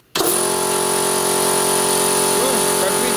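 A direct-drive air compressor with no belt switches on abruptly and runs at a steady, high-pitched whine with a strong mechanical hum, loud and close, with faint voices underneath.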